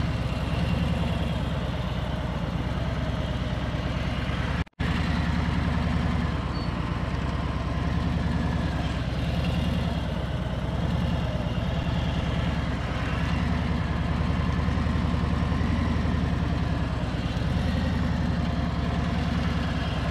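A motorcycle engine turning at low RPM under clutch control, a steady low rumble holding throughout with one brief dropout near the start.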